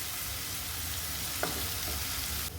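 A large onion and a dried red chilli frying in oil for tomato poha upma, giving a steady, dense hiss of sizzling with one faint stir, close and continuous.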